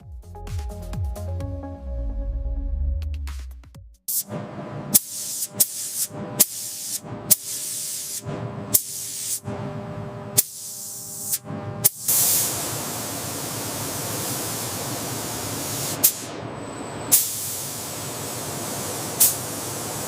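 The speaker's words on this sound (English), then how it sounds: "Robotic spray systems apply primer to the aluminum body." A loud, continuous spray hiss from a robotic system priming an aluminum maglev body, with short bursts and pauses at first, then a steady sustained blast of atomized spraying, with no voices.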